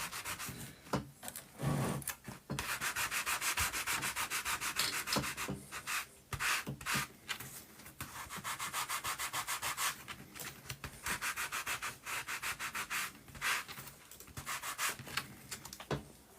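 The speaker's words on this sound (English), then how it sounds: "just roughing this up first because I forgot to sand it" Steady back-and-forth scratching of sandpaper rubbed by hand over wood, in long continuous strokes with brief pauses, close up and fairly loud.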